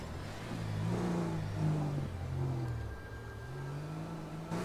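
A car engine revs in GTA V Online, a steady mid-pitched drone that rises and falls in pitch over several seconds, fairly close and heard alone without talk.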